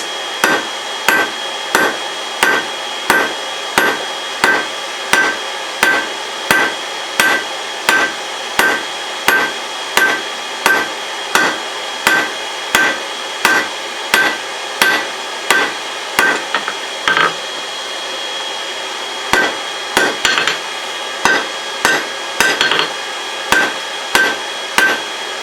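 Hot steel stock being hammered flat on an anvil while forging knife tongs, loud ringing blows struck in a steady rhythm about once a second, with a brief pause before the strikes resume.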